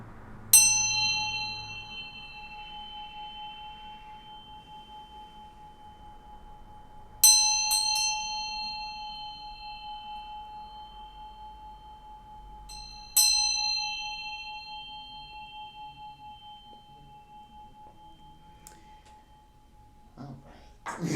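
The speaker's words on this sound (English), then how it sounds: "I'm going to ring this bell here." A bell is struck three times at spaced intervals. Each strike gives a bright, clear ring that hangs and slowly fades, close and alone in an otherwise quiet room.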